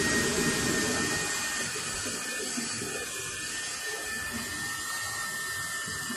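A Dremel rotary tool polishes residue off a soldering iron tip, giving a steady, high-pitched grinding whine that runs without a break throughout.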